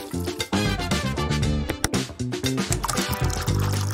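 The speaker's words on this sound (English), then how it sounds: "So, let's give them their own fountain." A cat's water fountain trickles and burbles up close, the falling stream gurgling in quick irregular pulses, with no talk.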